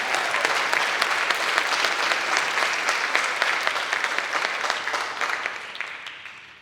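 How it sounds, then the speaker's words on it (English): Sustained audience applause at an arts festival, a dense, loud wash of many hands clapping together that holds steady and slowly fades toward the end. "So round of applause, seriously, for every performance and artist, every day."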